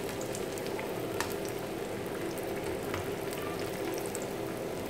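Vegetable cutlets with a precooked filling fry in oil, making an even, continuous crackling sizzle throughout at a fairly quiet level, with a few faint pops and no talking.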